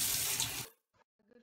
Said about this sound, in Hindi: जैसे अब टमाटर हैं, इनको बहुत ही अच्छे तरीके से इस तरह से हम इनको धोएंगे